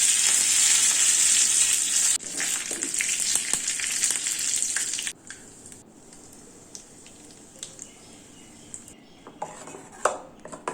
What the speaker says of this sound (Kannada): ಒಂದು ಚಿಕ್ಕ ಬಾಣಲಿಗೆ ಸಾಸಿವೆ ಹಾಕ್ಕೊಂಡು ಸ್ವಲ್ಪ ಆಯಿಲ್ ಹಾಕಿ ಹೀಟ್ ಮಾಡ್ಕೊಳ್ಳೋಣ.